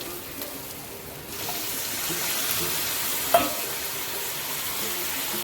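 Soaked kurdai being stir-fried in a pan, a soft sizzle with scraping stirs and one sharp clink of a utensil, close and fairly quiet, with no talking.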